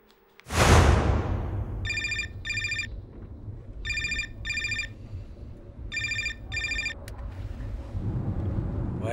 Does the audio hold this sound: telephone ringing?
yes